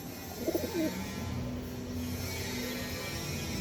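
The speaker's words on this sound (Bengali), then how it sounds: "দেখুন বন্ধুরা পায়রা দেখুন একদম পিওর রামপুরি পায়রা" Pure Rampuri pigeons give a short, soft coo near the start, then a quiet, steady background hum with no talking.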